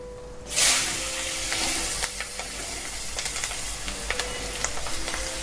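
Asafoetida powder hits hot oil with a sudden loud sizzle, then settles into a steady crackling hiss with small pops and stirring clinks nearby.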